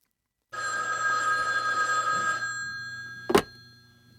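Telephone bell ringing as a sound effect in a Korean audiobook, a steady electronic ring lasting about two seconds, clear and close, followed by a brief click or knock, with no voices.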